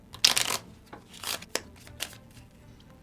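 Gloomhaven: Jaws of the Lion board game cards are shuffled by hand in several quick papery riffling bursts, the first loudest, with short pauses between and no talk.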